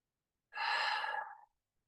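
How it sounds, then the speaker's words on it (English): One audible breath, drawn in through the nose and let out through the mouth, a soft airy exhale lasting about a second in otherwise quiet surroundings. "breathe in through the nose and out through the mouth 6 times"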